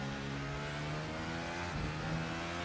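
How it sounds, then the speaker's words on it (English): A Formula One car engine in an F1 video game, the Chinese Grand Prix, holds a steady high-pitched whine as the car accelerates out of a corner, loud and continuous with no talk. "add a little bit of gas there to turn the car around"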